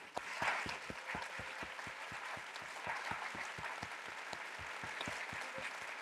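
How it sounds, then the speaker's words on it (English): Audience applause at an economics talk, steady rhythmic clapping that sounds fairly close and quiet, with sharp regular claps over a soft crowd patter and no talking. "I would love to have a round of applause for Alex Imas."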